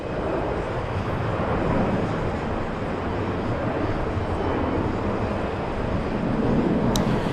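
A heavy Boeing 777 on the runway at JFK airport gives off a steady, distant jet roar, broad and unbroken, swelling slightly near the end.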